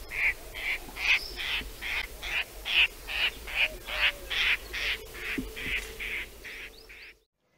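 A bird calls repeatedly in a steady series of about fifteen short, bright notes, fairly loud and close, with no voices, ending in silence.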